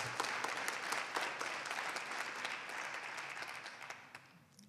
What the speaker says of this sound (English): May we hear it, the loving, loving sound of applause for Steve Sneed and Isiah Anderson